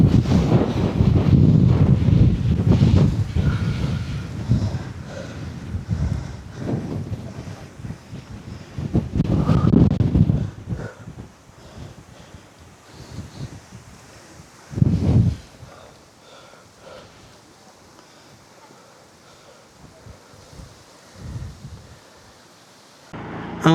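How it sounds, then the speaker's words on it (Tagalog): Strong wind gusts buffet the microphone at a scenic viewpoint in Dingalan, Aurora, roaring loudly at first, then easing into quieter stretches broken by a few sharp blasts. "Ang hangin."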